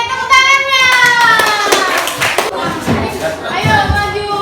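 A group of children in a classroom claps their hands in scattered, uneven bursts, mixed with overlapping young voices and talk throughout.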